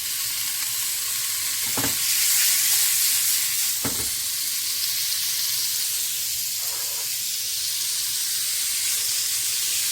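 Vegetables and protein sizzle steadily in hot oil with salt, a constant crackling hiss, broken by a few soft clinks and stirring knocks.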